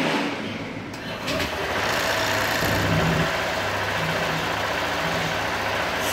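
A 2020 Honda PCX scooter with an electronic control unit fault starts up and settles into a steady idle, its engine running continuously and fairly loud nearby, with a broadband whir throughout.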